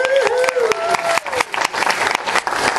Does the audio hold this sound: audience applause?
yes